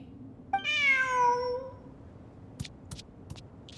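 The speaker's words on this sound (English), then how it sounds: "Who's a good kitty?" A cat meows once, a clear drawn-out falling cry in the video game Genshin Impact, followed by a few faint clicks against a quiet background.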